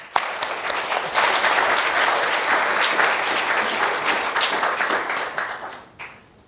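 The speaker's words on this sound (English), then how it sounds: "Let's hear it for Abhinav." An audience applauds loudly and steadily for about six seconds, then the clapping fades out.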